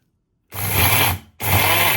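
A kitchen mixer grinder whirs loudly in two bursts, grinding dried vegetables into a coloured food powder, with a brief pause between the runs.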